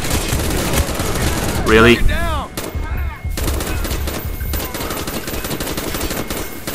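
Rapid automatic gunfire and bursts of shooting in the video game Call of Duty Black Ops, loud and dense throughout, with a brief pause and a voice speaking midway.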